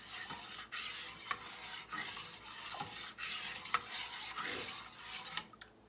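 A spoon scrapes and stirs a homemade banana pudding mixture in a pot, a steady soft swishing with occasional louder knocks against the pot, close and alone.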